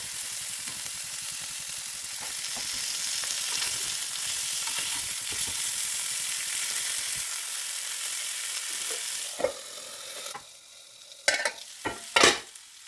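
Fish fries in a pan with a dense, steady sizzle for most of the stretch, close and loud, then fades into quieter spells broken by a few sharp clinks and knocks of utensils.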